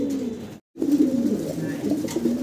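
Fancy Spanish pigeon cooing up close in a steady low, throaty warble, briefly cut off by a moment of silence before the cooing resumes. No one talks.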